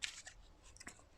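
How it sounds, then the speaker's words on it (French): A single card is slid from a held deck during a quiet tarot-style daily draw: a soft papery swipe and brief snap, faint and close, with no talking. "Je vais tirer la carte du jour."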